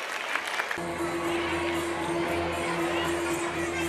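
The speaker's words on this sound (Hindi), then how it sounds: "तलबा के सफाए के लिए जोरदार तालियां बजाइए।" Audience at a school annual function breaks into loud, sustained applause and crowd noise after a short lead-in, the clapping dense and continuous to the end.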